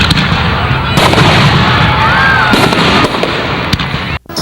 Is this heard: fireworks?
yes